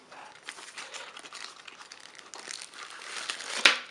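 Plastic seal on the packaging of a Mpow iSnap X Bluetooth selfie stick being pulled and torn open, with steady close crinkling throughout and a sharp louder rip near the end.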